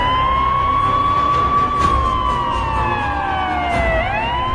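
An ambulance siren wails loudly and continuously, its tone sliding slowly up and down in long sweeps with a rising turn near the end, with no voices over it.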